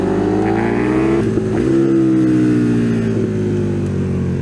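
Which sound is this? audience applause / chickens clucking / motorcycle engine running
motorcycle engine running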